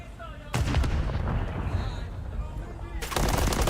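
Rapid automatic gunfire crackles in a Call of Duty match during a championship esports tournament, a loud sustained burst after a brief quiet start, then a second burst near the end.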